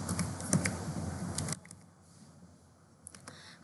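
Rapid keystrokes patter on a computer keyboard as HTML table code is typed, close and dense for about a second and a half, then quiet before a few last taps.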